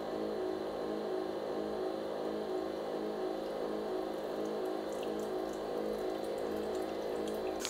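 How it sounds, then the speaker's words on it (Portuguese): A chrome Nespresso Vertuo Next coffee machine draws water into its system during a cleaning cycle, giving a steady, even pump hum and watery rush that runs unbroken throughout at moderate level, with no voices. "Tá sendo puxado a água para dentro do sistema aí, né? Para fazer a limpeza."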